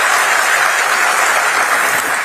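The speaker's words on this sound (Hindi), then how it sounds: "जोरदार तालियों से अभिनंदन एक बार पुनः कर दीजिए" Loud, dense applause from a large audience at an appointment letter distribution ceremony in Lucknow, welcoming Chief Minister Yogi Adityanath, steady and continuous throughout with no talk over it.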